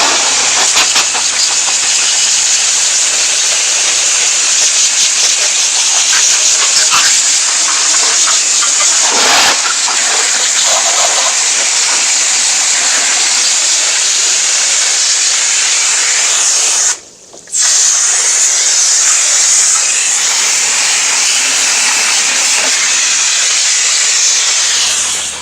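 A VW Jetta TDI turbo diesel engine bay being rinsed with a steady hissing spray of water after degreasing, loud and continuous for the whole stretch with one brief pause near the end.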